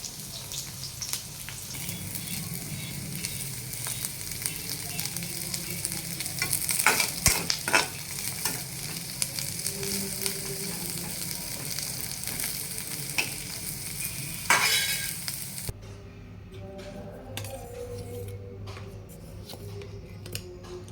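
Bitter gourd pieces deep frying in oil give a steady broadband sizzle for about fifteen seconds, with stirring clatter, then the sound drops to a quieter, thinner hiss near the end.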